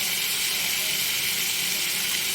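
Boiled, drained taro stolons (kochur loti) are poured into a hot pan for a prawn dish, giving a loud, dense, steady sizzle and hiss that fills the whole moment, close up, with no pause.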